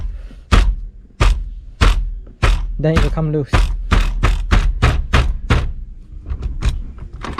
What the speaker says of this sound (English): form a fist, knock on this side and knock on this side repeatedly.